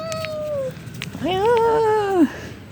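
A cat meows near its food at a construction site: a short mew, then a longer, drawn-out, rising and falling meow, close and clear over faint background noise.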